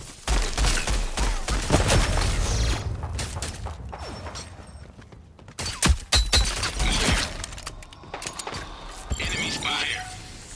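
Gunfire crackles in a Rogue Company multiplayer match, with rapid bursts and single sharp shots at shifting distances, some close and loud. Voices speak now and then over the firing.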